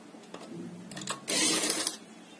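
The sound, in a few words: sewing machine stitching suit lining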